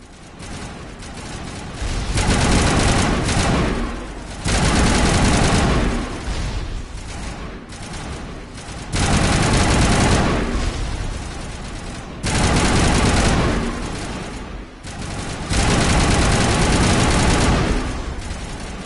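Gunfire in the Mass Effect video game, with loud sustained bursts of rapid automatic shots in long volleys and short pauses between them. The firing is close and dominant, with booming impacts underneath and no talk.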